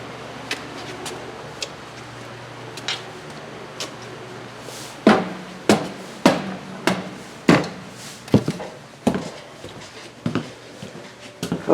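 A camper stove burner igniter in a 2022 Sunset Trail 272BH travel trailer snaps out a series of sharp, irregular clicks, faint at first and then louder and quicker, over a low background hum.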